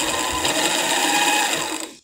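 A Janome domestic sewing machine runs steadily, a continuous close mechanical whir with a fast needle rhythm that slows and stops at the end.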